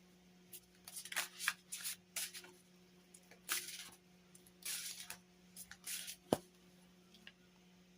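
A deck of oracle cards is shuffled by hand in soft, repeated riffling bursts with brief pauses, close and quiet, with no talk.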